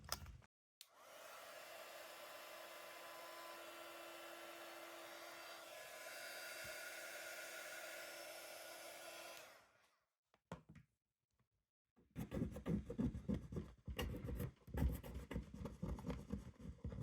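A heat tool blows a steady, close whirring hiss for several seconds as it softens paint on a box. After a short pause, quick irregular scratches follow as the paint is scraped off with a fingernail or a small stick.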